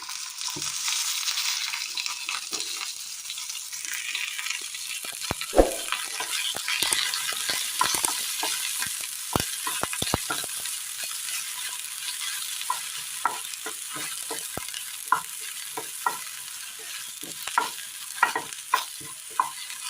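Continuous hissing sizzle of frying in oil, with frequent scraping and clicking of a spatula stirring throughout, close and fairly loud.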